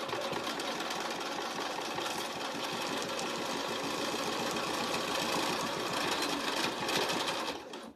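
A sewing machine stitches at a fast, steady clip, a dense mechanical whir and rapid needle chatter running close and loud for several seconds before slowing to a stop at the end, with no voices.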